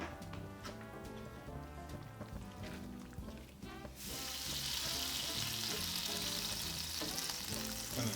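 Greek chicken with vegetables, seasonings and olives is stirred in a hot pan, giving a steady close sizzle and scraping stirs, with the frying growing louder and brighter partway through as fresh ingredients hit the pan.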